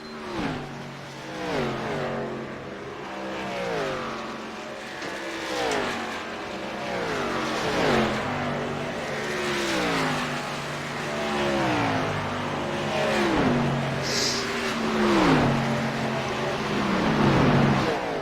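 K&N Series race cars run laps at Texas as a continuous, loud engine roar, with rising and falling revs as cars pass and shift gears one after another.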